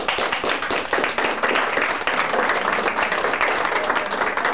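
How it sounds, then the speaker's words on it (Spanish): An audience applauds the architects in attendance during a lecture on Renaissance art, with dense, steady clapping from a crowd that stays loud and continuous throughout. "un aplauso vamos a darle a los arquitectos que se encuentran aquí"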